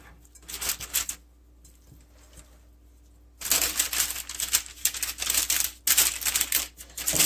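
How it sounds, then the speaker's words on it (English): Parchment paper being torn off and pressed into a cookie sheet in a kitchen: bursts of crisp crinkling and rustling, a quieter gap, then a longer stretch of loud, busy paper handling close by. "Now you're going to take a cookie sheet and line it with some parchment paper."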